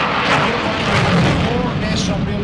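A Eurofighter Typhoon fighter jet flies at an airshow in Leeuwarden, Holland, its loud, rough roar filling the air while a voice is partly heard over it.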